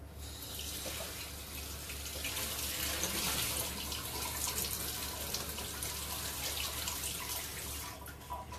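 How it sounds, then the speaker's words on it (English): Cold tap water runs steadily into a sink or bowl as gelatin is soaked, a close, continuous gushing splash lasting several seconds with no talk. "I'm going to put this now in cold water. Gelatin goes in cold water first."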